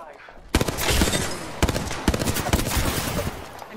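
Gunfire in Apex Legends: loud, rapid bursts of shots crackling close by, dense and near-continuous with a few sharp louder cracks and short pauses.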